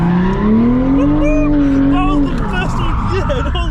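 A drifting car's engine sounds off, the revving wavering and dropping away as the engine cuts power, while people talk over it inside.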